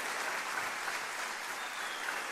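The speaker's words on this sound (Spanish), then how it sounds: "Un fuerte aplauso para ustedes." Audience at a sermon applauding steadily, a dense, even wash of clapping from many hands, continuous throughout with no pauses.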